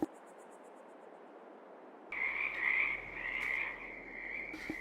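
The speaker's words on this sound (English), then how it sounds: "Those frogs are loud though" Frogs croak in a modded Minecraft-style game world by a river with lily pads, a loud, steady chorus of rapid croaking that starts abruptly and runs continuously, close and without talking.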